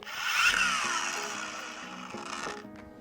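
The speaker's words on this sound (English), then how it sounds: "We're going to grab our dual action polisher." A cordless 25mm dual action polisher runs steadily on car paint, a loud, close, continuous whirring whine that dips and surges slightly as it works across the panel.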